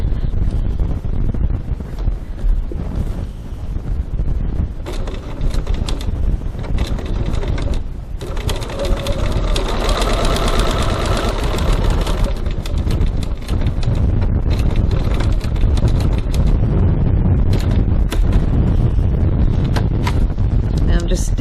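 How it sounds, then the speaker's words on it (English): A sewing machine top stitches wallet leather about 3 millimetres from the edge, a steady close mechanical whirring and rapid needle clatter running almost continuously, with brief pauses and someone talking at the start. "I'm going to stitch 3 millimeters, 1/8 of an inch from the edge"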